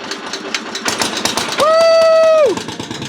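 A vintage lawn mower engine, back running after two decades, cranks amid rough clatter, then catches into a loud steady whine for about a second before dying down; voices are heard around it.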